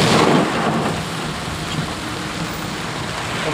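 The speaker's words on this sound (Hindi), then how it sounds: "बहुत तेज बारिश हो रही है, आगे कुछ दिख नहीं रहा था" Heavy rain pours down on a highway near Agra, a dense steady roar with a rumble of thunder underneath, loud and close throughout with no voices.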